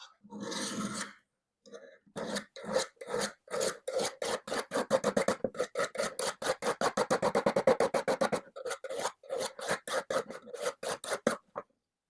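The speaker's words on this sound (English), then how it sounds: "I just need to work on the very final sharpening of the edge. And I have a chainsaw file." Chainsaw file rasping along the edge of a hedge trimmer blade in quick, evenly spaced strokes, close and fairly loud, speeding into a steady rhythm before slowing and stopping, with no talking.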